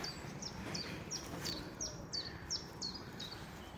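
A small bird in a forest park at the Lake de Gavers domain repeats a quick, high chirp about nine times in an even rhythm, faint over a soft outdoor background.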